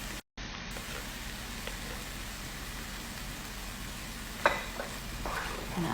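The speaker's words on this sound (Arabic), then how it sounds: "أحط الطماط اللي عصرته" Blended tomato sizzles in a pan for chicken tortilla, a steady, soft hiss with faint crackles and one small sharp clink near the end, no voices over it.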